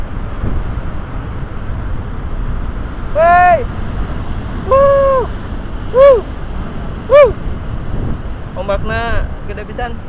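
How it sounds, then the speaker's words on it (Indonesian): Big ocean waves at Permisan beach on Nusakambangan island wash in as a continuous roaring surge with wind buffeting the microphone, while a person speaks a few short exclamations over the noise. "Ombaknya gede guys."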